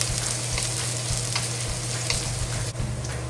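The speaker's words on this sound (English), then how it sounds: "slowly fry until the green onion releases good smell" Green onion slowly frying in flour and oil for a Chinese cabbage and tofu stew gives a steady, close crackling sizzle with a low continuous hum, without pause and with no talking.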